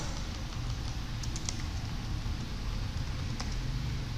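Fingers type on a computer keyboard, entering accounting figures in a steady run of quiet, close clicks with a few sharper taps.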